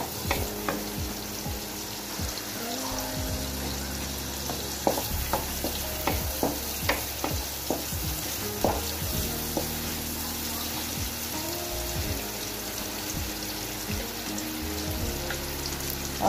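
A medium onion, chopped, fries lightly in butter with a steady close sizzle, broken by scattered clicks and scrapes of stirring over a low tonal hum.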